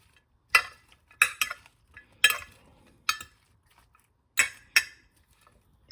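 Seasoned okra being tossed and mixed with two forks, giving sharp clinking scrapes in an irregular series of about eight short taps against a quiet background, with no talking.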